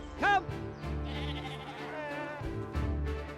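Sheep on a farm in Devon bleating, one loud wavering bleat at the start followed by fainter overlapping calls from the flock and a second bleat near the end, over a low rumble of background noise.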